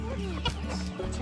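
A big black rooster clucking briefly and close by, a couple of short throaty calls over steady background hum on a rural Bulgarian farm.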